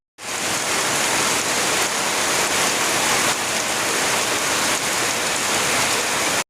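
Steady heavy rain falls in a continuous loud hiss, unbroken from start to finish, with no voices.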